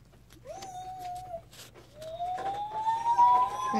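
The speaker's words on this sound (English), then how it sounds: "We'll put his sirens on." A small electronic siren wails in rising, sliding tones, close and fairly quiet, starting and stopping once before climbing again, with faint clicks around it.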